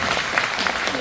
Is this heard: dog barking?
no